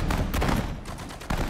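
Gunfire in the World War II real-time strategy game Sudden Strike 4, set in the Pacific War at Wake Island: rapid bursts of shots and booming reports, loud and close, packed into a quick barrage.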